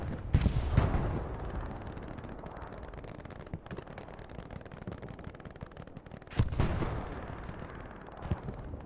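Artillery fire in a multiplayer video game match: two heavy booming blasts, about six seconds apart, stand out over a continuous rumble of distant gunfire and battle noise.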